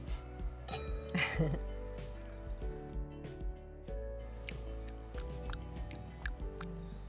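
Wine glasses clink together in a toast of Cabernet at a Victorian winery estate, a bright ringing chink near the start, followed by soft handling sounds with low room noise.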